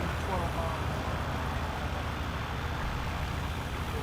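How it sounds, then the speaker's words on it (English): A 65-horsepower pulling vehicle named Redbeard comes down the track at a pulling competition, its engine a continuous, moderately loud drone, with a commentator talking over it. "here's Redbeard. He's got those whopping 65 horsepower coming down the line."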